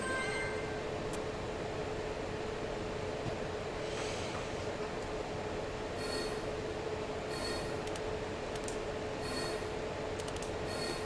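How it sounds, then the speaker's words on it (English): A waiting train in Sonic the Hedgehog (2006) gives off a faint, steady rumbling hum, with occasional soft clanks and brief high squeal-like hisses scattered throughout. "Train's still waiting for you."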